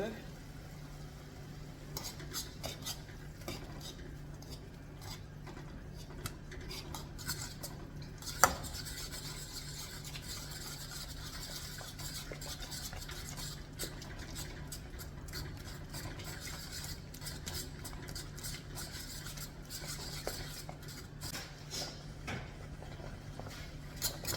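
A fork scrapes and stirs thick ugali in a pot, a quiet continuous rubbing and scraping with one sharper knock, while faint speech comes through now and then.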